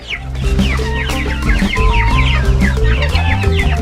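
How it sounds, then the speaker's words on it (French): Quails kept by a poultry breeder calling in a dense, continuous chorus of short chirps and clucks, loud and close with many birds overlapping throughout. "Chaque matin, les cailles de Samadou l'accueillent avec leurs cris familiers."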